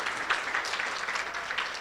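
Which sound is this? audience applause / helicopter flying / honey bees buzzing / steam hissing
audience applause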